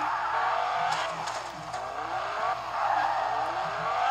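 A car in Fortnite skids and spins donuts, with sustained tire squeal sweeping up and down over a revving engine that holds steady and prominent throughout, with no voices.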